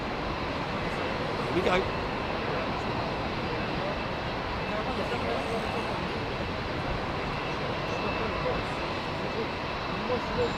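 A jet airliner roars steadily through its takeoff roll and rotation on an evening departure at London Heathrow, with broad continuous engine noise at moderate distance and a brief voice over it.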